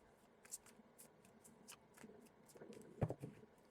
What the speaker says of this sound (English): My shuffling is off today